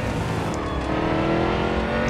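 NASCAR race car in Real Racing 3, its engine droning steadily and loudly throughout with a sustained roar and some tire noise as it slides through a corner, no voices.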